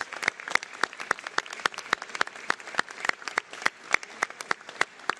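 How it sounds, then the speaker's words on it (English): Scattered, crisp hand claps at a Canadian roofing company event honoring its 350 workers, a small group clapping at a fairly steady, sparse pace throughout, close and moderately loud. "a big round of applause to you and the 350 workers"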